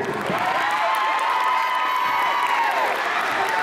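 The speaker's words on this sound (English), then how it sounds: "Let's have a round of applause for Gabby." An audience in New York City cheers loudly for a young singer, with whoops and shouting on top of some applause. The roar holds steady and continuous throughout.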